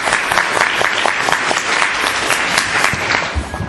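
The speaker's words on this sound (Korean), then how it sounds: "뜨거운 박수 부탁드립니다." An audience at a Korean real estate finance industry seminar claps warmly, a dense and fairly loud burst of many hands that holds steady for a few seconds.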